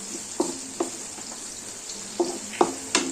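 Green chillies and onion fry in oil in a pan for khichuri, a steady sizzle under repeated sharp scrapes and taps of a spoon against the pan, heard up close.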